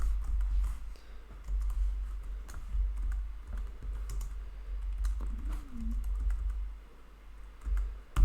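Typing on a computer keyboard while writing R and C++ code, soft irregular clicks and taps running steadily for several seconds at close range over a low background hum.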